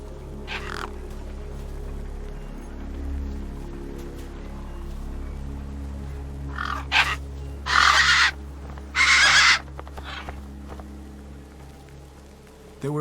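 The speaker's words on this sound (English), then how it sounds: "The gang birds were eyeing up the corpse hungrily." Crows caw loudly from close by in the video game Beyond a Steel Sky, first one isolated call and then a cluster of harsh, drawn-out caws later on, set over a low, steady ambient hum.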